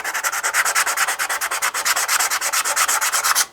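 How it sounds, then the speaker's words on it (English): Rapid back-and-forth strokes of 120 grit sandpaper on the end of a piece of wood for a bonsai bench, a steady brisk rasping rhythm of about eight strokes per second, close and alone. "you can go over the end with a little bit of sandpaper. I'm using 120 grit"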